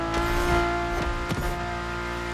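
A Ferrari supercar in the video game The Crew Motorfest holds a loud, steady engine drone with strong harmonics, and a couple of brief gear-shift dips break the sustained tone.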